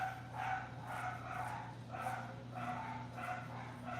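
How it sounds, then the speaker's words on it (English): Several dogs barking at home in a quick repeated rhythm, with short yips and a few overlapping barks, fairly faint and set against a steady low hum. "Is it wrong to strangle my dogs because they won't shut up?"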